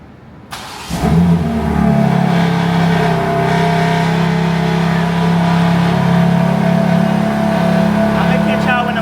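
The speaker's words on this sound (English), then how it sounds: "Let me give y'all a little cold start real quick so y'all can hear what it sounds like." A stock BMW G80 M3 Competition with a single mid pipe fires up from cold: a sharp starter catch and loud flare, then a steady, deep, rumbling high idle held close to the exhaust.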